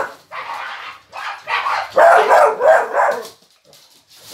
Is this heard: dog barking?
yes